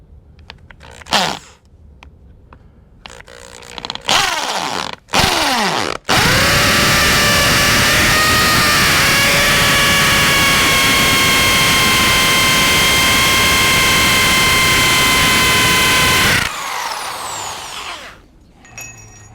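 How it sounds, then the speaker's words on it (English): A hammer drill boring into an exterior house wall starts with a few short bursts, then runs in one long, loud, high whining stretch before stopping, close by. "Make sure it's on hammer drill"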